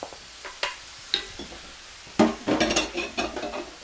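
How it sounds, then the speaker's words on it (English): Tomatoes and kidney beans are added to a skillet and stirred, giving a run of close, sharp spoon scrapes and clinks over a quiet sizzle, growing busier and more rhythmic in the second half. "In go the tomatoes, in go the kidney beans"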